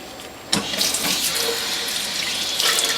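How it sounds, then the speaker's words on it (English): Tap water runs steadily over juicer parts to rinse off pulp. A sudden splash starts the flow, which then continues as a close, even rush without voices. "rinse all the pulp off as best you can."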